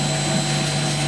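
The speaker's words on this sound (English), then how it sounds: "Centrifuge vertical clean, it's been running for approximately 15 minutes." Vertical centrifuge for cleaning core drilling mud, driven by a VSD at 50 hertz, gives off a steady, loud mechanical whir with strong constant hum tones, unbroken and close.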